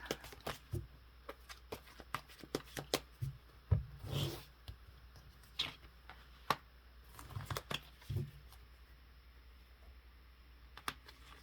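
Tarot cards are shuffled and handled on a table, giving quiet irregular riffles, flicks and taps in scattered bursts, with a longer rustling shuffle partway through.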